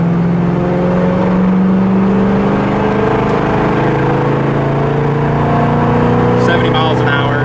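A 1976 Pontiac Firebird's engine while driving on the road, a loud, steady droning hum with smooth tones that slowly rise and fall as the car accelerates and cruises.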